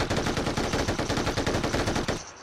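Rapid burst of machine gun fire from a video game, loud and close, with a steady fast rhythm of shots running for about two seconds before cutting off abruptly.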